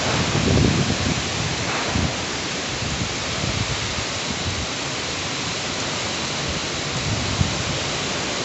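Heavy rain pours during a severe flood disaster, a steady loud roar of water with splashing close by that continues without a break for the whole stretch, with no voices.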